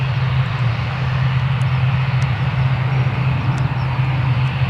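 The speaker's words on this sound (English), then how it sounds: "Oh, got the Aer Lingus on the move now." Aer Lingus airliner on the move at Newcastle Airport, a loud, steady broadband jet engine roar with a low rumble that holds evenly throughout, heard from a spotting position outdoors.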